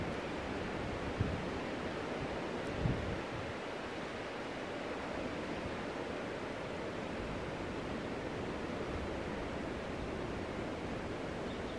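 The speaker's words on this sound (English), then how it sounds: "Just watch the river go by as it flows along." Steady broadband rush of a river flowing past a trail in a conservation area, continuous and even throughout with no talk.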